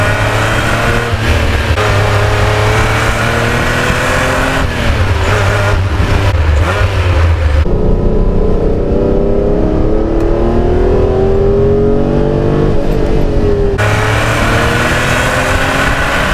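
A Ferrari Testarossa engine revs hard while driving, with a loud, continuous roar that rises through the gears, briefly eases off, then builds again.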